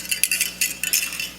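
Metal cones on a jingle dress clinking together in quick, bright bursts of shimmering rattles, close and fairly loud with brief pauses between shakes.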